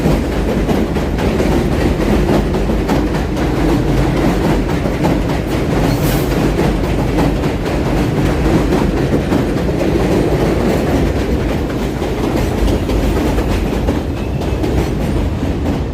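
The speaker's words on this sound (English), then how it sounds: "That's a D train going to Brooklyn, to Coney Island." A D train runs on an elevated subway line in Brooklyn, heading to Coney Island, with a steady loud rumble and rhythmic clickety-clack of wheels on rails, a brief high squeal partway through, and no voices.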